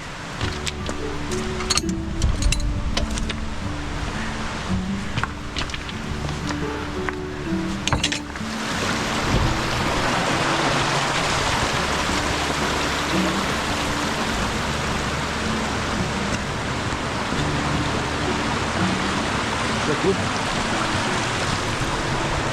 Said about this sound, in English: Just come up to the River Derwent again. It's just a broad part of this river.